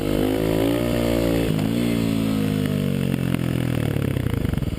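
A Kawasaki KLX250 dirt bike revs hard in second gear while lifting into a wheelie, a loud close engine drone that dips then climbs steadily in pitch.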